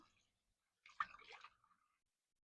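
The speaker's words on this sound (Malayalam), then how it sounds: "ഇച്ചിരി വെള്ളം ഒഴിച്ചു വെക്കാം." Water splashes and pours for about a second while fish is being cleaned in a village kitchen, a short, close, fairly quiet burst that fades after a brief drip.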